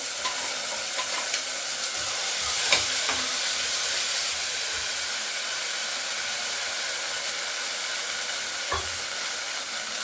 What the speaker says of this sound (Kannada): ಈಗ ಇಲ್ಲಿ ಮಸಾಲೆನೆಲ್ಲ ರುಬ್ಬಿರೋದು ಹಾಕ್ಕೊಳ್ತಾ ಇದ್ದೀನಿ